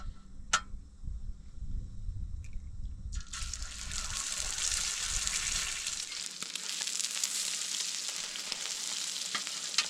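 Pork fat rendering in a pan at a mountain campsite, quiet stirring and crackle at first, then a loud steady sizzle taking over for the rest.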